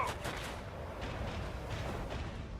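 A starship cannon salvo fires in the Rogue Trader video game, a muffled series of rumbling booms rolling together over a low, continuous roar at moderate volume.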